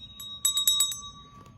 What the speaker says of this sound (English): So first we'll ring the bell,